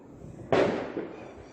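A Diwali firecracker rocket bursts with a sudden loud crackling whoosh, then a fainter second pop follows and a sizzling hiss of sparks trails off, heard up close with no talking.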